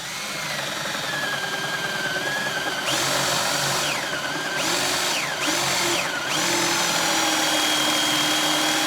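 A power drill bores hinge holes into a cabinet door, its steady high whine running continuously and pitching down and back up several times as the bit bites into the wood, loud and close with no talk.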